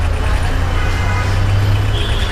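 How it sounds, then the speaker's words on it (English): Heavy road traffic on Pedder Road in Mumbai: a steady, loud low rumble of buses, cars and trucks passing close by, with continuous engine drone and road noise. "And heavy traffic."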